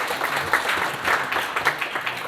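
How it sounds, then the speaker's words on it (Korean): An audience at a Korean commemorative event and policy forum on suicide prevention gives sustained applause, a dense steady patter of many hands clapping together, fairly loud and continuous throughout. "다 같이 박수 다시 한번 부탁합니다."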